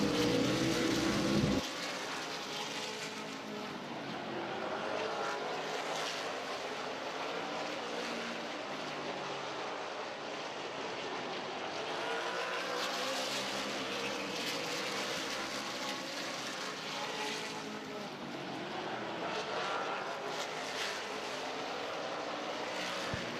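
Race cars circling a track at a feature event, a distant engine drone that swells and fades as cars pass, steady and moderately faint across the stretch after a brief louder burst at the start.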